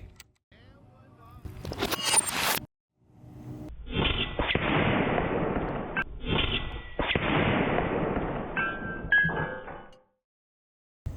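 Shots from an Umarex Gauntlet 2 SL30 side-lever big-bore PCP air rifle striking targets at 50 yards, a sharp crack followed by longer loud impact bursts, with brief talk around them.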